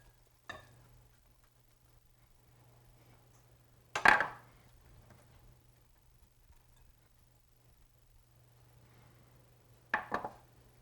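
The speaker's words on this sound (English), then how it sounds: "take our pan and simply dump it into this bowl" Oven-roasted vegetables tipped from a roasting pan into a bowl give a few quiet, sharp knocks and clatters, widely spaced in an otherwise still room.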